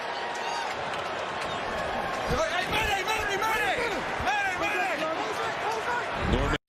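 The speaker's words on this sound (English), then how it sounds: "listen to the crowd. It's not a big crowd, but they're fired up" A small but lively crowd cheers and shouts at a football game, a dense, steady roar of voices with rising whoops, while a commentator talks over it throughout.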